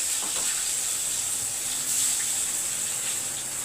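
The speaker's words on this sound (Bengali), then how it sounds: "বেগুনটা আমি একটু ভেজে নিই খুব লম্বা লম্বা করে কাটা আছে" Long strips of eggplant fry in oil for a hilsa curry, giving a steady, close crackling sizzle that runs evenly throughout with no voices.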